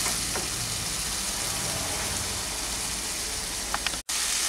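Brinjal curry simmering uncovered in a pan with a little added water, a steady dense hiss of bubbling and sizzling throughout, briefly cut off near the end.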